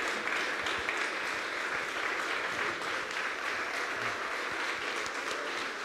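Sustained, steady applause from a festival audience greeting the event team and volunteers on stage at a panel discussion in Broumov Monastery, dense and even throughout.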